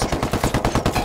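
Rapid automatic rifle fire in the online PvP match of Ghost Recon Wildlands at a lumber mill, a steady run of about a dozen loud, evenly spaced close shots with no talk.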